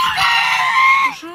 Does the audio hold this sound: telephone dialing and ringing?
no